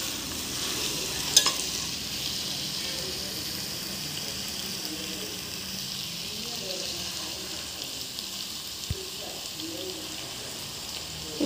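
Tomatoes and vegetables cooking gently in oil in a covered pan, a soft, steady sizzle with occasional light stirring and faint clinks, fairly quiet and close.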